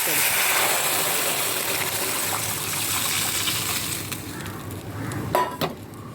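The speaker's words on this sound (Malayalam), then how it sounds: "ഇതിലേക്ക് നമ്മൾ പയറിൻ്റെ പൻപയറിൻ്റെ വെള്ളം ഉണ്ടല്ലോ" Bean cooking water gushes and splashes into a hot pan with a steady sizzling rush, easing off toward the end with a couple of clinks.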